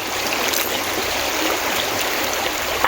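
Water runs steadily through a channel near Nagercoil, a continuous close rushing and trickling hiss that stays even throughout with no one speaking.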